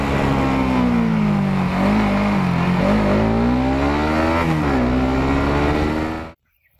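A fuel-injected Suzuki Raider 150 Fi motorcycle engine drones loud and continuous, its pitch rising and dipping with the throttle before cutting off abruptly.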